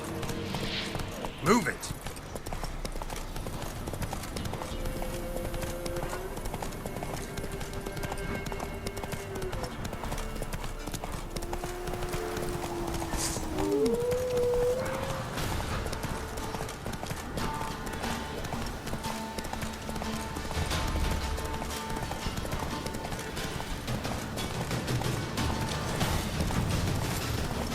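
Hooves of Roach, the horse in The Witcher 3, clip-clop steadily at a gallop through the whole stretch, with a voice speaking over them and game music and effects mixed in.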